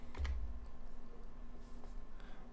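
Quick typing on a computer keyboard while building a website in Dreamweaver, a short run of soft clicks, close and faint, with no talk.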